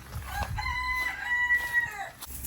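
A rooster crows once nearby, a drawn-out call over soft background clucking and rustling.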